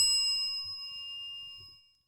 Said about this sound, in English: that is the cussing bell when you are totally off the chain